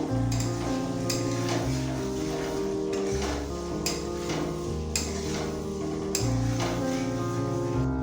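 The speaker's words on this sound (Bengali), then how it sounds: "মশলার সাথে আলুটাকে খুব ভালোভাবে মিশিয়ে নেব।" Boiled new potatoes being stirred into spices in a pan for Bengali aloo dum: a steady sizzle and frying hiss runs throughout, broken by several sharp scrapes and clinks of the spoon against the pan at irregular intervals.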